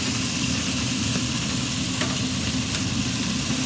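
Chicken pieces on a smoking grill sizzling steadily as they are stirred and turned, a dense close hiss with faint scraping taps, no talking.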